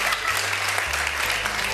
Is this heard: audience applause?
yes